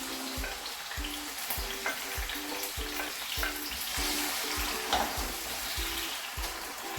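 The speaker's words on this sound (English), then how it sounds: "The oil is hot enough, so I'm going to add some tomatoes in, onion," Chopped tomatoes and onion fry in hot oil with a constant close sizzle, while soft regular thumps of stirring repeat underneath and no one speaks.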